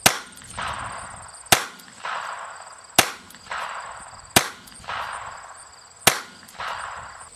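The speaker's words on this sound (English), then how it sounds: "Take careful aim at the center of your target and fire a careful 3 or 5 shot group." Five gunshots fired at a target from a sighting rest, evenly spaced about 1.5 seconds apart, each a sharp loud crack with a short ringing decay.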